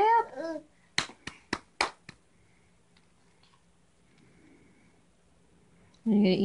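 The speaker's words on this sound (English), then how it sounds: "Penny, clap, clap, clap!" A baby claps her hands in a quick burst of about five sharp, close slaps, with a child's babble before and after and faint room noise in between.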